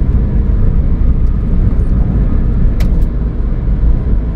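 Heard from the cabin, a Ford Fiesta 1.0 EcoBoost accelerates under kickdown, its engine a loud continuous roar of road and motor noise, with a couple of faint clicks partway through.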